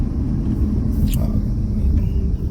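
Steady low rumble inside a car moving along a road, a continuous close drone with a brief higher whoosh partway through.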